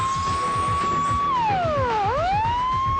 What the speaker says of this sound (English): The alarm goes off at the plant's fire station.